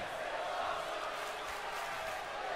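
A large arena crowd in the WWE 2K wrestling video game roars in a continuous, dense wash of cheering that stays steady throughout without any clear breaks.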